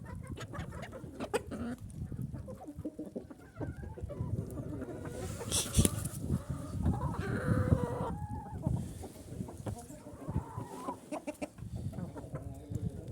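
Hens cluck and murmur continuously inside a chicken coop, close and busy, with occasional louder squawks over scratchy background noise.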